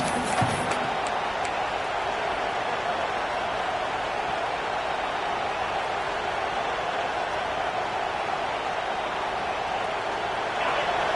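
A football stadium crowd at an Auburn versus Texas A&M game roars continuously in a dense, distant wash of noise, steady and loud throughout.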